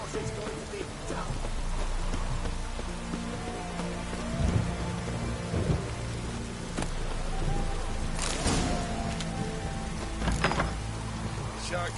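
Steady hiss of rain falling in the Witcher 3 game world, with a soft low rumble like distant thunder and occasional brighter splashy bursts, continuous throughout under faint background game sounds.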